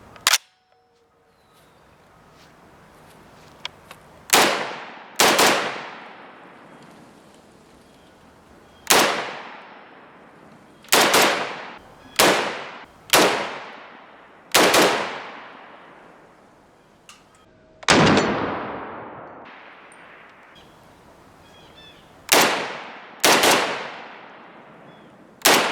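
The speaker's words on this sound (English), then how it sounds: "Let's take a few more shots in the A4 configuration." An HK G3K carbine fitted with an A4 stock fires about a dozen single shots outdoors, loud sharp reports spaced irregularly with short echoing decays between them.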